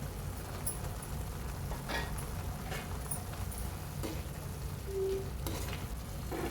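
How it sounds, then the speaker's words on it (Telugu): Onions and tomato frying in a pan for a crab curry, a low steady sizzle with faint scraping, quiet and continuous throughout without any talking. "ఉల్లిపాయ వేగింది కదండి ఇప్పుడు టమాటా వేసుకోవాలి"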